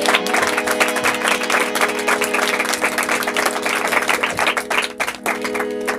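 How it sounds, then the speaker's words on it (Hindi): A church congregation claps during a Sunday service, dense steady applause lasting throughout, with a sustained musical hum underneath. "जोएल के लिए जोरदार तालियां बजाएं।"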